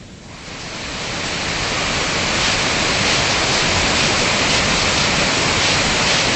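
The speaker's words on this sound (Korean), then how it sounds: "어마어마한 폭포를 또 지나가네." Roaring Himalayan waterfall on a mountain trek, a loud, steady broadband rush of falling water that swells in over the first second and then holds constant and unbroken, with no voices.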